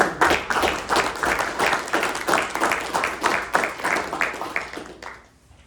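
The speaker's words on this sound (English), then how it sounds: "I'll give a round of applause and hope they can hear you" A board of commissioners meeting audience gives a round of applause, steady dense clapping for several seconds that fades out at the end.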